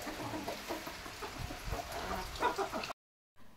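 Hens and roosters, five of each, cluck and call together in a busy, cluttered stretch of noise that stops abruptly before a short, faint tail of sound.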